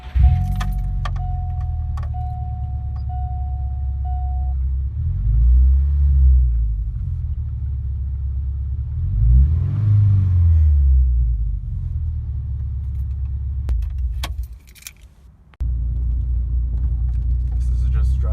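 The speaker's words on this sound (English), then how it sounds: "This is the stock modified exhaust inside with the windows closed." A stock modified exhaust on a Subaru Impreza 2.5RS GC8 drones heard from inside the cabin with windows closed, a steady low rumble that swells twice as it revs, with a brief drop near the end and clicks and jingles over it.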